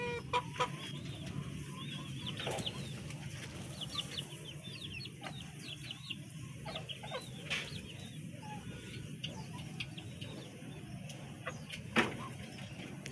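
Texas gamefowl chickens cluck in a farmyard, with frequent soft clucks and a few louder calls over a quiet outdoor background.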